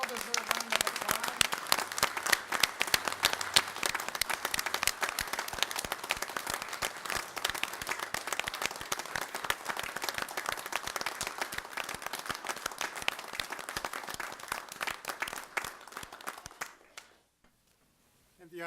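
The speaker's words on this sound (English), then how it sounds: "let's give these gentlemen a well-deserved round of applause" Audience at a village board of trustees meeting applauding, sustained dense clapping from many hands that fades out near the end, with a voice over it.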